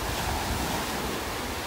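Strong wind on a beach in North Naples, Florida buffets the microphone with a constant loud roar, mixed with the wash of small surf and no voices.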